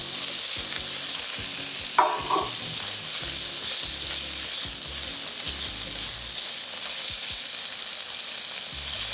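Shrimps and mushrooms frying in a pan with cooking wine give a steady, close sizzle, broken by a sharp clatter near the start and soft stirring scrapes over the continuous hiss.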